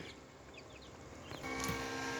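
Brahma and Silkie chicken chicks give a few faint high peeping calls over a steady low background hum, brief and somewhat distant.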